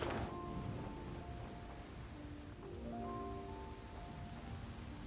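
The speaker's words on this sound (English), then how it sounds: "Taking a stroll in the middle of a downpour certainly rouses the spirit." Steady rain pouring down during a downpour in the video game Genshin Impact, a constant soft hiss with a low rumble of thunder underneath and faint tonal game sounds, fairly quiet and with no speech.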